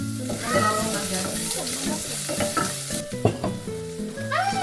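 Garlic sizzles and fries in a hot pan with crackling spatters and occasional stirring scrapes, the sizzle loud and continuous while voices and household sounds come and go alongside it.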